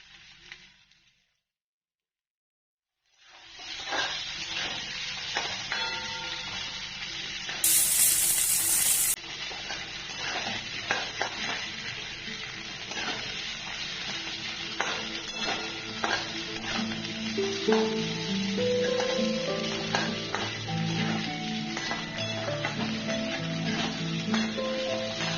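Potato pieces for sabudana khichdi sizzle in hot oil in a pan while being stirred, steady frying crackle with scraping and clinking of the spoon, following a brief silence at the start.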